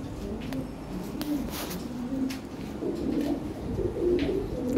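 Lahore Siraji pigeons of a European toy-bred line coo nearby in soft, repeated low throaty phrases.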